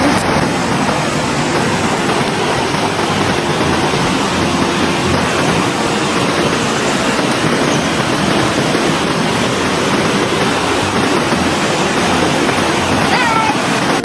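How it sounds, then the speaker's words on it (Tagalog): Bunsuran Falls runs strong and swollen just after rain, a loud, unbroken roar of rushing water filling the whole stretch up close, with a voice partly buried under it. "Kung naririnig niyo ako, mas maririnig niyo yung agos ng tubig."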